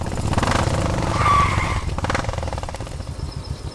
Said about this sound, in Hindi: जल्दी जल्दी चालू कर बाइक